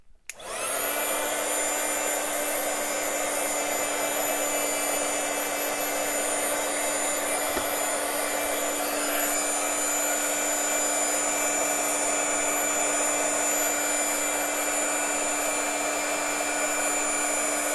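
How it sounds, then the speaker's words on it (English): A heat gun starts with a click and runs as a loud, steady blowing whine with a constant high-pitched motor tone, close to the mic and unbroken for the whole stretch. "I'll use my faster heat gun"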